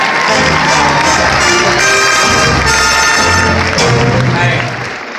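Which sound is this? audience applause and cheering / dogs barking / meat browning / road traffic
audience applause and cheering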